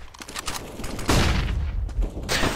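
Gunfire in CS:GO during a solo competitive match on the Dust2 map: loud, dense bursts of shots that run almost without a break, with a sharp surge just past the first second and no talking.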